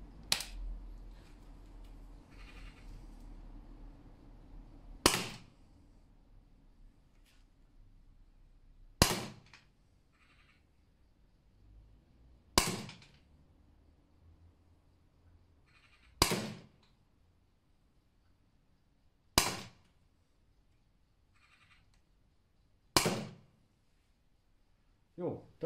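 Six sharp gunshots from a .50 caliber gun firing rubber-steel balls during a chronograph test, evenly spaced about four seconds apart, each a loud crack with a quick decay over quiet background.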